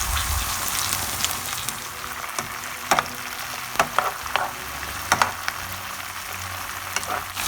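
Red chili sauce and garlic chilli chicken fry in a pan, a steady sizzle broken by a few sharp clicks and pops from stirring, with no speech.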